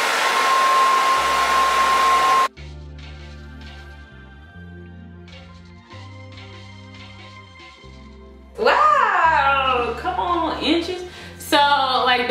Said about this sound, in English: I'm gonna be blow drying about like this much of my hair so that it can stretch out